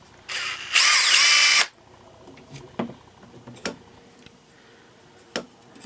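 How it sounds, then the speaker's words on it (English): A power drill whines in two short bursts, the second louder and longer, followed by scattered clicks and taps nearby. "I need to drill a hole"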